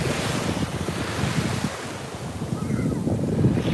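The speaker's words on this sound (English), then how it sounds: "This is Fort Lauderdale Beach." Surf rolls in at Fort Lauderdale Beach, waves washing steadily under gusty wind buffeting the microphone, with no voices heard.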